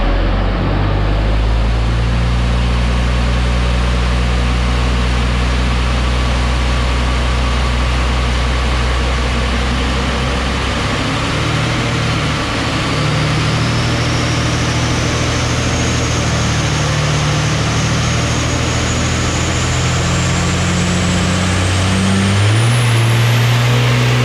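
A truck engine runs a full-throttle dyno pull to test towing power, a loud steady roar that climbs in pitch as it revs up, with a rising whine near the end, alone without talk.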